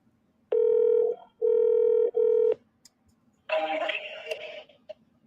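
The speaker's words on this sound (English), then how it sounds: "Dialing." Telephone keypad dialing tones on a sales call: three steady beeps in quick succession, then a rougher burst of line noise, heard clearly with no talking over them.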